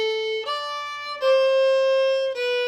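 A Swedish folk melody bowed on violin, starting on an A: three sustained, clear notes played alone in a slow legato phrase, each tone rich in overtones.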